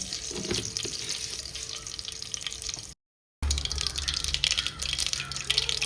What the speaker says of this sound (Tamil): கடுகு பொறிஞ்சு எடுத்து கருவேப்பிலை பூண்டு நசுக்கி வச்சுக்கிறேன்